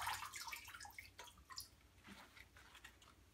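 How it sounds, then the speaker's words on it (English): Greens for juicing are rinsed in distilled water, giving soft, close splashes, drips and wet leafy squishing in irregular bursts, fairly quiet with no talking. "Give them a good rinse in my distilled water."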